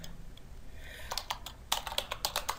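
Computer keyboard typing Java code, a quick run of light, close key clicks that starts sparse and grows busier, with faint room hiss behind and no voices.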